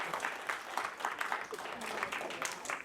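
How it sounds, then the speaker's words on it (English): Audience clapping for a speaker at a high school Black speaker series event, a moderate patter of applause with rhythmic bursts from a modest crowd, voices faintly mixed in. "Y'all can clap now. Come on now. Come on now."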